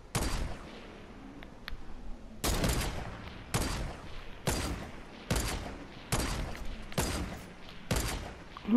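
Bursts of gunfire from a battle royale video game match, about seven sharp loud volleys spaced roughly a second apart, each a quick cluster of shots, with quiet gaps between.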